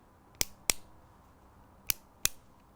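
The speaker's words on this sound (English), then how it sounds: "That was a pen clicking on and off." Four crisp, sharp clicks of a pen being clicked on and off, in two close pairs separated by a pause, close and distinct in a quiet room.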